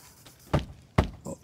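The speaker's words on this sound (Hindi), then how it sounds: "हम खटखटा रहे हैं डोर।" Knocking on a door in Resident Evil Village: three heavy, hollow thuds spaced unevenly, close and loud against a low ambient background.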